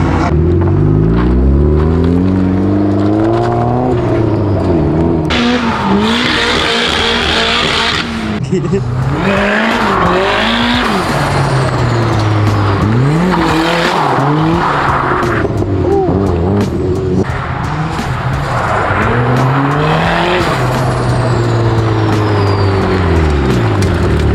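Drift car lapping a track, its engine revving hard up and down with repeated tire squeals and skids, loud and close throughout, with someone talking over it at times.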